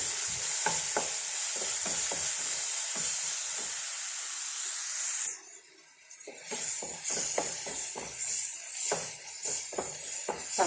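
Chopped tomatoes sizzle and fry in a pan, with a steady hiss under repeated scraping stir strokes; the sizzle briefly drops out mid-way, then returns with more clinks and stirring.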